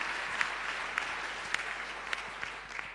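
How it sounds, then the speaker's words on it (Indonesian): Church congregation applauding in a sanctuary after a sermon, a steady dense wash of clapping that runs the full length at moderate, even volume, with no talk over it. "Beri tepuk tangan yang meriah bagi Tuhan."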